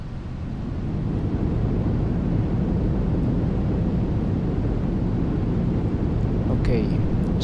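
The S-IVB rocket engine ignites in the Orbiter spaceflight simulator during an Apollo 10 flight. It swells into a steady, loud, broadband roar that holds unbroken, with a brief faint sound near the end.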